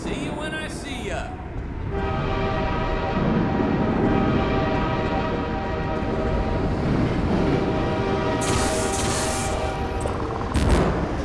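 A train rolls past in the video game Half-Life 2 Episode Two, a loud, sustained rumble with metallic tonal ringing that swells and holds for several seconds, then a harsher clattering burst near the end.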